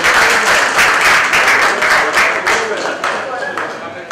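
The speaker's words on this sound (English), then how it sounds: "So let's give a round of applause" Audience applause after a sponsor presentation at a technology conference day, a dense burst of many hands clapping, loud and close, holding steady for several seconds before easing off slightly at the end.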